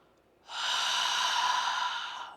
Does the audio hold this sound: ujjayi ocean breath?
yes